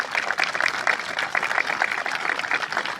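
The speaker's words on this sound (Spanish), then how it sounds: "Un aplauso" Outdoor crowd applause at a monument ceremony honoring fallen heroes, a steady patter of many hands clapping at moderate distance, continuous for the whole stretch with no voices rising above it.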